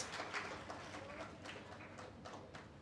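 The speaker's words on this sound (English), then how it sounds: "Let's give her and Akash a big round of applause." Soft, fairly distant applause from guests at an engagement get-together honoring the newly engaged couple, with quick clustered claps lasting a few seconds at low volume.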